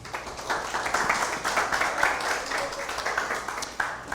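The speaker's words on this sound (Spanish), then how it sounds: "Recibámoslo con un fuerte aplauso." Audience at a seminar on internal control claps to welcome a speaker. The applause is moderate and steady, with distinct individual claps, and lasts around four seconds.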